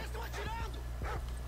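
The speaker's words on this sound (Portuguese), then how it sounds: "agora eu tô ouvindo cachorro" Dog barking in Call of Duty Modern Warfare 2 during a firefight, a few short yips and barks at moderate distance over steady game noise and a voice talking.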